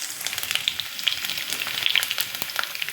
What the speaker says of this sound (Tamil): இப்போது இந்த கருவேப்பிலை, பூண்டு, மிளகா போடுறேன். இது நல்லா வதங்கட்டும்.